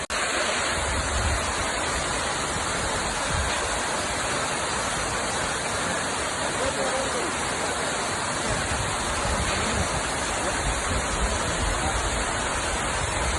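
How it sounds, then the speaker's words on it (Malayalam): Alakapuri waterfall in Kannur roars continuously, a thick, unbroken rush of falling water that holds at constant loudness throughout. "ഇതാണ് അളവരി വെള്ളച്ചാട്ടം."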